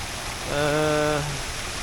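A fountain in Alameda Park, Mexico City, gives a steady, even hiss of splashing water throughout, with a short tonal, whistle-like sound rising above it in the middle.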